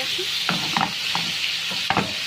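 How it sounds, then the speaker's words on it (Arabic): Kofta sizzles steadily in hot oil in a pan, with a few soft scraping knocks as the pieces are turned over, close and continuous. "وانا بقلبها كده بتتغلف في الزيت"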